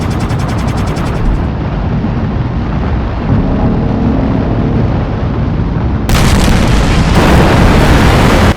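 Explosion of the starship USS Firebrand in a sci-fi series, a loud sustained roaring blast that swells and rumbles continuously, with a sharper burst near the end.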